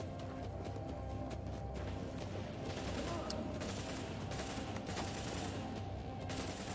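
Sustained gunfire in Tom Clancy's The Division, a dense crackle of rapid shots running throughout, loud and continuous with brief overlapping bursts.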